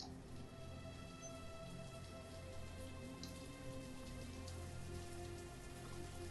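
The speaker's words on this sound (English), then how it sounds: "it's raining" Steady rain falls in the town-building game Banished, a dense, even hiss of drops on surfaces that holds at an unchanging level throughout, with no voices.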